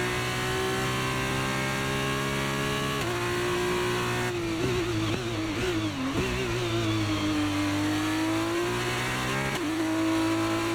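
Hitech GP F2 race car in F1 23 at Bahrain, its engine screaming at high revs, pitch dipping and climbing through gear changes and corners, loud and continuous with no talk.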